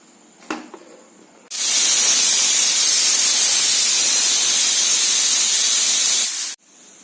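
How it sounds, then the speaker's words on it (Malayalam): A pressure cooker holding ripe jackfruit cooked in water on a stove bursts into a loud, steady rush of venting steam. It holds for about five seconds, then cuts off sharply, with quiet kitchen sounds before and after. "കുക്കർ 2 വിസിലടിച്ച് തീ കെടുത്തിയിട്ട് ചൂടാറുമ്പോൾ തുറക്കാം"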